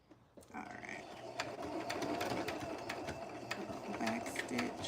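A domestic sewing machine stitches a chainstitch seam on a VikiSews Liliana vest, running as a steady, fairly close mechanical whir for several seconds after a brief start, with no talk over it.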